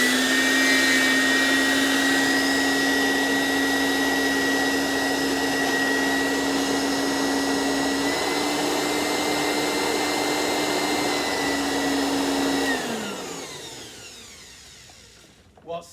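Kenmore twin fan two speed upright vacuum cleaner runs with a steady loud whining motor hum, then switches off and the tone winds down and fades over the last few seconds.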